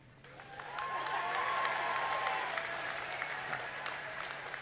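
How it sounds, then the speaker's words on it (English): A crowd at a high school commencement claps steadily for several seconds, the applause swelling and then holding at a moderate level, heard from within the room. "Thank you for that applause."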